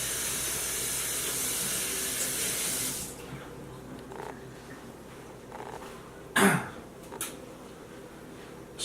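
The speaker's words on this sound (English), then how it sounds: "I'm going to wash my hands" A kitchen tap runs steadily for about three seconds while hands are washed beneath it before panko-breaded chicken is cooked, then the water stops, leaving quiet room tone with a few faint handling knocks.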